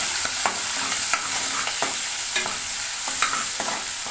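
Sliced onion, green chilli and curry leaves fry in a pan for a kaju chicken curry, giving a steady loud sizzle broken by regular scraping stirs of a spoon, with no talking.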